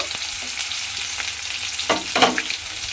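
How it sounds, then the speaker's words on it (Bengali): Tomato sizzles in hot oil in a pan while being stirred for a papaya curry, a continuous frying hiss with a few sharper spoon scrapes near the end. "টমেটোটা দিয়ে এবারে তেলের মধ্যে একটু নাড়াচাড়া করে নেব"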